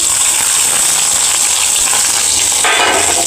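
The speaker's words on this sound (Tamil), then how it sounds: "இப்போ குழம்புக்காக தாளிப்பு ரெடி பண்ணிக்கலாம்" Shallots sizzle and crackle steadily in hot oil close by for a curry tempering, a continuous frying hiss with no talking.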